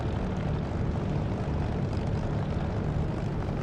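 A Spitfire taxiing in a flight simulator game: a steady, loud propeller engine drone that holds an even rumbling tone throughout, with no pauses.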